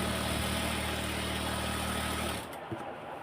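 A sewing machine stitches a pajama with a steady, close motor hum for over two seconds before stopping abruptly, leaving faint background noise.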